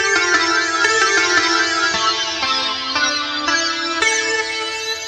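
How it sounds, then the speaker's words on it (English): A bright, twangy sitar-like melody from a hip-hop beat plays steady plucked notes that step gradually downward, loud and clear with no voices over it. "it has like that sitar sound"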